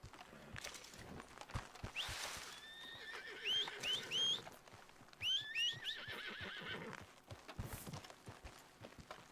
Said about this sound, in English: See, listen how bitchy the horse is.